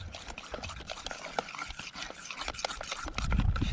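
A fork stirs a lumpy mix in a cup at a campsite cookout, producing quick, continuous scraping and rasping strokes up close, with a low rumble rising near the end.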